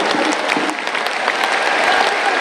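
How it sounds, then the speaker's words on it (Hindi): A large devotional wedding-festival crowd claps with both hands raised, a dense, loud, continuous patter of many hands with slight rhythmic swells, heard alone without talk. "दोनों हाथ उठा के पहले ताली बजाओ"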